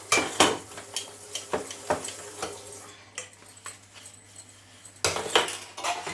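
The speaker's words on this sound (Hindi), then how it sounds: "बर्तन करेंगे सारा।" Dishes, pots and utensils being washed by hand, with close, irregular clattering, clinking and scraping of metal cookware and cutlery, louder knocks at the start and end and quieter rattles between.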